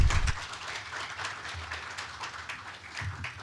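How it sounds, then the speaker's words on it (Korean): Applause from a forum audience on energy security and natural gas, welcoming a professor to the stage; a steady, moderately loud wash of clapping that holds evenly throughout, with no talk over it. "큰 박수로 맞이해 주시기 바랍니다."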